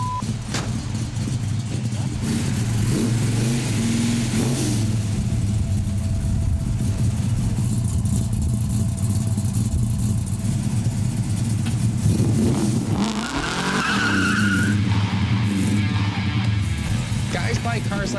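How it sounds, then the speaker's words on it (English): A Dodge Super Bee muscle car with about 500 horsepower idles and revs on a test drive, its deep engine rumble steady and loud, rising into a sharper rev and skid near the end while people talk over it. "Oh, yes, I had fun stepping on the Super Bee"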